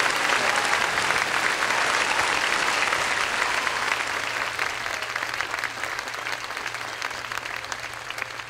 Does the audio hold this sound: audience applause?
yes